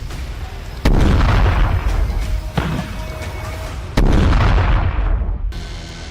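Heavy blasts from Fagot anti-tank missile strikes and shelling in the Russia-Ukraine war, several loud booming impacts with sharp onsets and rumbling tails, close and powerful, no voices.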